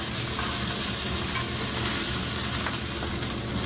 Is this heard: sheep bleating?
no